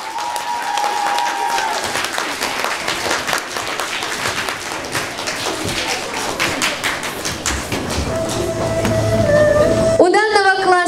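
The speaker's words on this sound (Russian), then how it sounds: "Аплодисменты 4-му Е!" Applause fills a primary school graduation ceremony for a fourth-grade class, a steady wash of clapping from a crowd that runs the whole time, with brief tones and a rising sound near the end.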